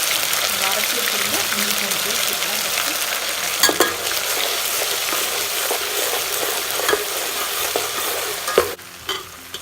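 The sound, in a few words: stirring mint into frying biryani masala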